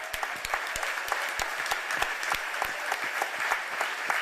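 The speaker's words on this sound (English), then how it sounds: "Let us applaud this panel." An audience at an Emancipation Day breakfast event applauds a panel, a dense, lively burst of many hands clapping close and loud, sustained for several seconds without speech.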